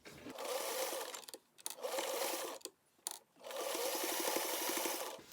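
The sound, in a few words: sewing machine top stitching a face mask corner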